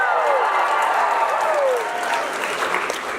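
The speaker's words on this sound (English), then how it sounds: "can you please give me a big cheer?" A crowd at a girls' sports event cheers and claps loudly in a sustained wash, with whoops and shouts rising over the applause before it tapers slightly toward the end.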